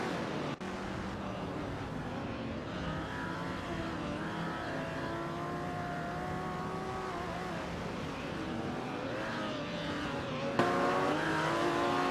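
Vintage supercars race in a video game, engines droning and revving in a continuous layered whine with shifting pitch as cars jostle, steady and moderately loud, with a brief sharp knock near the start and a louder burst near the end.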